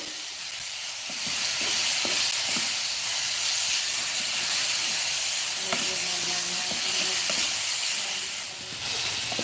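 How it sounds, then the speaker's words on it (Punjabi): Onion and tomato, with ginger and garlic, frying in a pan: a steady hiss and sizzle carries through, broken by light utensil scrapes and taps as the mix is stirred, with no talking. "ਪਿਆਜ਼ ਟਮਾਟਰ ਆਪਾਂ ਨੇ ਸਾਰਾ ਕੁਝ ਭੁੰਨ ਲਿਆ"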